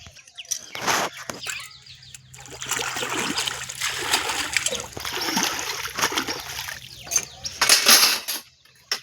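Dishes washed by hand with water in a village house, splashing and trickling in uneven bursts with clinks of utensils, close and moderately loud, with chickens clucking faintly in the background.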